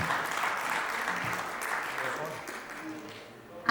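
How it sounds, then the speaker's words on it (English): Audience applause at a presentation event on the creative industries: a steady wash of clapping that holds for several seconds, thins slightly toward the end, then swells briefly again, with some talk over it. "please, a bit of applause"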